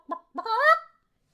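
Domestic chickens give two short calls, then a longer rising, honking squawk, close and loud with no talk over it.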